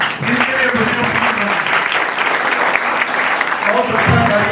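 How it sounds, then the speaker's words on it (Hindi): A Jain temple crowd at a moral-education camp closing ceremony applauds loudly and steadily while voices talk over the clapping for most of its length. "जितनी जोरदार तालियां इनके लिए"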